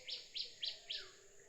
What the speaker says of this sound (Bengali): মিষ্টি পাখির ডাক।